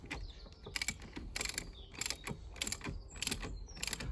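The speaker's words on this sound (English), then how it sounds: "torque the wheel nuts down" A torque wrench ratchets while tightening caravan wheel nuts during a running gear service, with rapid metallic clicking bursts repeating in an uneven rhythm over a low background rumble.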